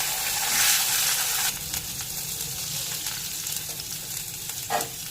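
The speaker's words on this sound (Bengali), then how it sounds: "বেগুনগুলোকে একটু ভেজে নেব।" Eggplant slices fry in hot oil in a kadai, giving a loud, close, continuous crackling sizzle with occasional stirring scrapes.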